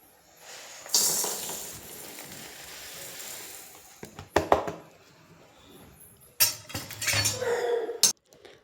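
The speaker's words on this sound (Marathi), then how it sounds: "आणि लगेच हलवायला सुरुवात करते. सारखं हलवत राहते, जेणेकरून सगळीकडून मस्त समान भाजलं जाईल." A spoon scrapes and clinks against a hot kadhai while a mixture is stirred and roasted, giving intermittent metallic scraping and clattering bursts of varying loudness, close up and with no talking.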